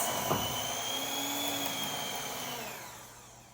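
Electric hand mixer running on high through brownie batter with flour in the bowl, a steady close whirring drone with faint pitch shifts that fades slightly toward the end.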